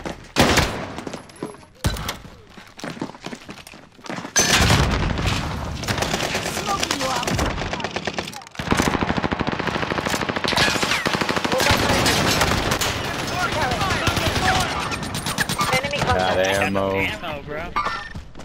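Bursts of automatic and single-shot gunfire in a Warzone battle-royale match, loud and close, mixed with game effects while players shout and talk over the shooting.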